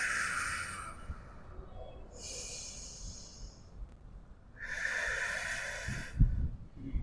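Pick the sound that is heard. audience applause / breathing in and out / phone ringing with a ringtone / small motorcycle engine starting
breathing in and out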